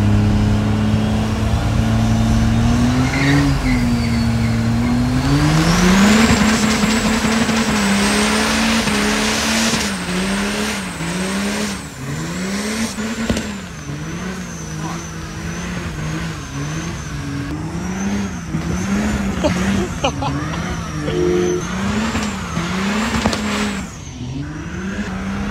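Turbocharged side-by-side doing a burnout on a trailer, engine revving hard and wavering up and down for over twenty seconds with a high whine and tire squeal, loud and close.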